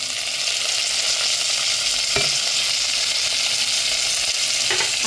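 Onion and tomato fry together in a pan for dal tadka, a loud, even sizzle that runs without a break, with a couple of soft stirring knocks near the middle and end and no voices.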